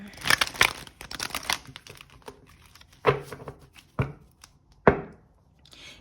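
Tarot cards being shuffled by hand, a burst of quick papery riffles followed by a few sharp separate slaps and flicks, close and fairly quiet with no talking.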